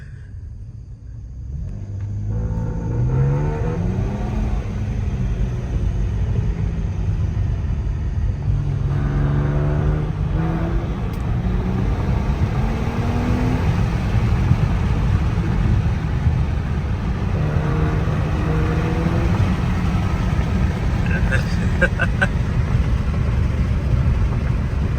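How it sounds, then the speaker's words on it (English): A car fitted with a roadkill exhaust rumbles at a deep, loud idle, then revs up in several rising blips before settling back to a steady low drone. "Oh yeah, I got the roadkill exhaust."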